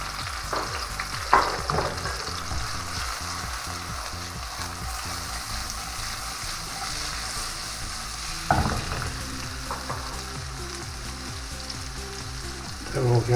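Vegetables sizzle in hot oil in a pan for a chicken and rice dish, a loud steady crackle broken by a few sharp scraping clatters of stirring.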